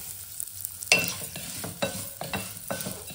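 Sago pearls and vermicelli frying in ghee in a pan, a steady light sizzle broken by several close, crisp spoon stirs and scrapes at an uneven pace, with no voices.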